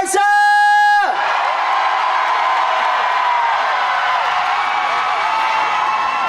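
Concert crowd at the Daegaya festival in Goryeong cheers loudly, with whoops and yells rising as a bright tonal sweep fades in the opening second; the roar then holds steady and dense.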